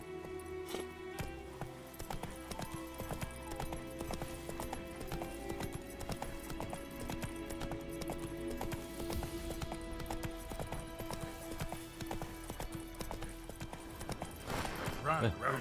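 Roach the horse galloping in The Witcher Wild Hunt, a rapid steady clip-clop of hooves running the whole time with game music and rain-like ambience, a player talking over it.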